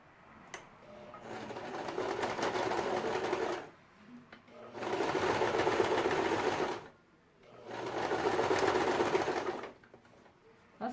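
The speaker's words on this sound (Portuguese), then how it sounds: "a máquina de vocês faz esse barulho todo?" A domestic sewing machine stitches two layers of synthetic leather in three loud, steady whirring runs, each several seconds long, separated by short pauses.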